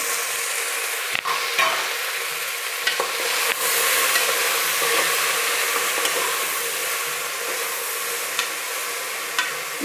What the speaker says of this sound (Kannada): ಈಗ ಕಾಯಿ ಸ್ವಲ್ಪ ಫ್ರೈ ಆಗಿದೆ ಹಾಗಲಕಾಯಿನ ಸೇರಿಸ್ತಾ ಇದ್ದೀರಿ